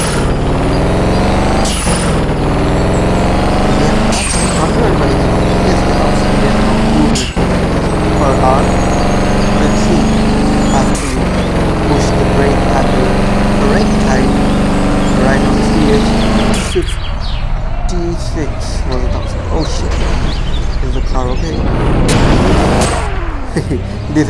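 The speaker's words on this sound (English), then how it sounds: "So revving right now." A Dodge Challenger SXT engine in a video game revs hard and steadily, its droning tone holding loud and close for most of the stretch before the sound shifts and thins near the end.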